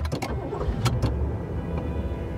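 A car engine cranks and catches with a few sharp bursts, then settles into a low idle rumble inside the vehicle.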